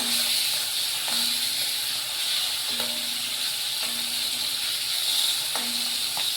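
A hilsa fish head fries lightly in hot oil, giving a steady, close sizzling hiss that runs the whole time, with faint intermittent tonal hums underneath.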